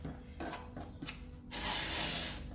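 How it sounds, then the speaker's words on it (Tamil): Boiled water pours into flour in a steady, hissing stream, after a few soft taps and shuffles. "கொதிக்க வச்ச தண்ணியை கொஞ்சம் கொஞ்சமாக ஊற்றி"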